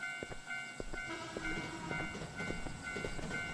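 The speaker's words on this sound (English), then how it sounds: "Where is this train?" A train in the horror game Teke Teke rumbling past with steady clickety-clack of wheels and a sustained tonal hum like a horn, continuous and fairly close, with no talking.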